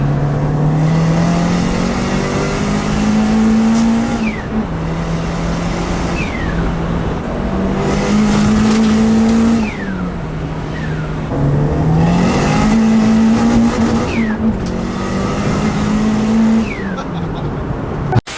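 A Toyota Starlet EP82 GT's turbocharged engine drones and climbs through repeated rising pulls, each dropping briefly at a shift before building again, loud and close throughout with road roar beneath.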